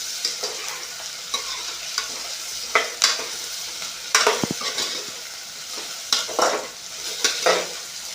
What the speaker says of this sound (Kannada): ಟೊಮೆಟೊನು ಚೆನ್ನಾಗಿ ಫ್ರೈ ಮಾಡಬೇಕ್ರಿ.